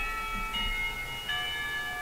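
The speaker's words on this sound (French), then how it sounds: "La cloche résonne et le professeur fait signe que les cours sont finis pour la journée." A school bell rings in the visual novel Katawa Shoujo, a sustained metallic tone with bright overtones that holds steady at moderate volume and swells slightly partway through, heard on its own without voices.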